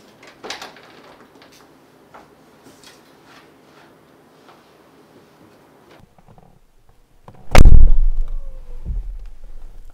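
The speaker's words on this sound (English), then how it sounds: "Amazing G-Class characteristic, how the door closes, the sound." A 2021 Mercedes-Benz G-Class door, Hofele Design build, shuts with a single loud, solid thunk near the end, after quieter handling noises and faint rustling.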